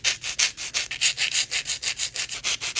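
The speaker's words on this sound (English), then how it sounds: "Now I'm just going to shape the nail tips a little." Rapid, regular back-and-forth scraping of a file shaping a polygel nail tip, about six strokes per second, close and crisp with no talking.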